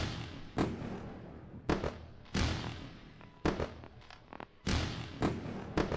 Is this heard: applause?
no